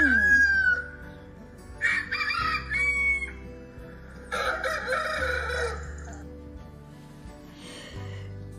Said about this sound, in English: They did not stop till the rooster crowed.